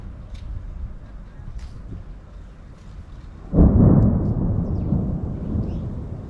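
Thunder follows a lightning flash over open country near a cave house: a quiet, breezy stretch breaks midway into a sudden loud rumble that rolls on and slowly fades.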